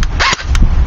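CYMA CM 027-J airsoft gun firing a couple of quick shots close by, sharp snaps over a steady low background hum.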